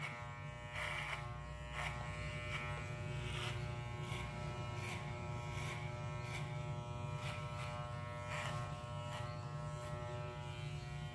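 An electric hair clipper fitted with a guard comb buzzes steadily while trimming hair for a discreet modern mohawk, with rhythmic brushing pulses as it passes repeatedly over the head, close but fairly quiet.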